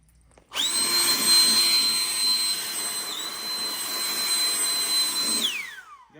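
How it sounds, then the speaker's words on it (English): A small inducted-fan air blower runs steadily at full speed, a loud continuous whine with a high tonal hum that starts abruptly and winds down at the end. "this is the best little old air blower. It's a little inducted fan blower."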